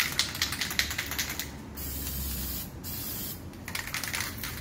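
Gesso sprayed off to the side from a spray bottle while prepping a cradleboard, a few short bursts followed by a longer steady hiss, then more quick spritzes, close and loud with no talking.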